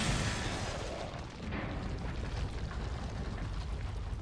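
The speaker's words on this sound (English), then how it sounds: "a flashbang should take care of them now." A flashbang grenade explodes in Resident Evil 4, a loud opening burst that rolls into a sustained, noisy roar and rumble lasting several seconds, with no voices.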